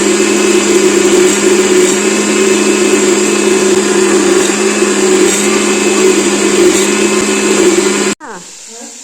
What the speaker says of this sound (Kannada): ಇವಾಗ ಇದನ್ನು ಮಿಕ್ಸಿ ಜಾರ್ಗೆ ಹಾಕ್ಕೊಂಡು ರುಬ್ಕೊಬೇಕು